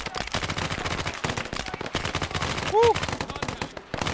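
Rapid gunfire rattles almost nonstop through a Vietnam war video game firefight, dense bursts layered with explosions and a brief whistling tone, while a voice shouts once.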